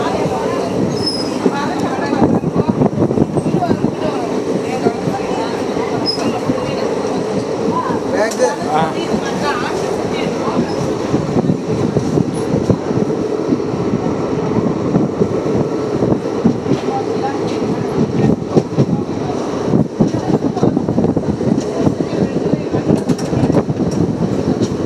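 A train rolls slowly across the Pamban Bridge toward Rameswaram, its wheels rumbling and rattling steadily with occasional squeals, close and loud throughout, while people talk over the noise.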